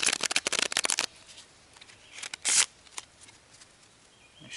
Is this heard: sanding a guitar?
no